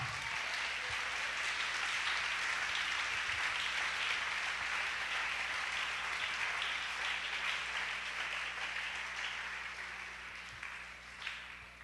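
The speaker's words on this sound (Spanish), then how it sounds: "Dele ese aplauso al Señor." A church congregation applauds the Lord during a sermon, a loud, sustained burst of many hands clapping together that holds steady for several seconds before slowly thinning out near the end.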